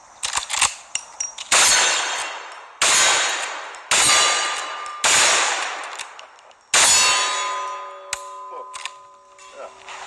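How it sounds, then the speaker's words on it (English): Pistol shots ring out against swinging steel plates, about five loud, evenly spaced cracks, each followed by a bright metallic clang that rings and fades before the next. "When I'm shooting those swinging plates with a pistol"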